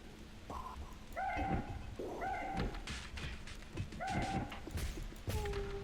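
A dog in the video game Sky Break gives a string of yips, barks and rising whimpers in short bursts, moderately loud over a low steady game background.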